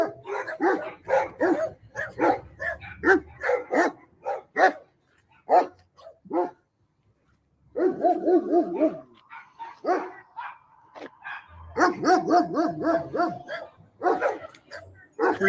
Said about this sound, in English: Pretty dog.